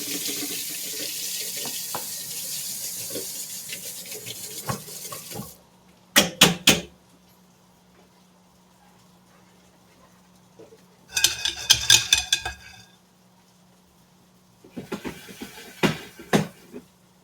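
Water runs from a kitchen faucet into the sink during cleanup, in a steady rush for several seconds, then stops; later come short bursts of running water with faint clinks of dishes and utensils, and no one speaks.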